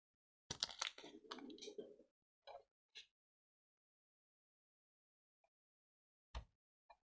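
Close scissors snip and slice through magazine paper in a short burst, followed by a few separate quiet clicks and snips in an otherwise silent room.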